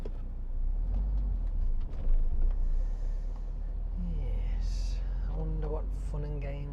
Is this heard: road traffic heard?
yes